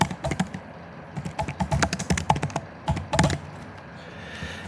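Close typing on a computer keyboard: quick, uneven bursts of clicky keystrokes separated by short pauses, then a brief near-silent tail with no voices.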